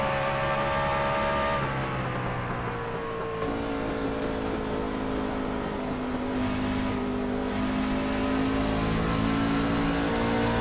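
Racing truck engines from KMA Racing hold a loud, steady drone as the trucks run a track amid lap traffic, the pitch shifting as they pass, with no voices.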